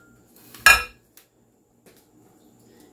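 A single clattering clink as a pie baking dish is set down or knocked, followed by a couple of faint taps in a quiet room.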